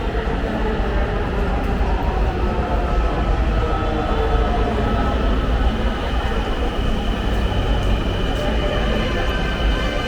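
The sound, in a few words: Dhaka metro train arriving at Mirpur 10 station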